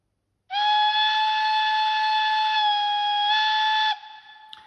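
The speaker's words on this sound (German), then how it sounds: "Wir haben dann das Geräusch Lockpfeife lang auf der F3." Long locomotive whistle from a Märklin H0 scale DSB E991 model's sound decoder, a single sustained, bright, steady electronic tone lasting about three and a half seconds, then cutting off abruptly.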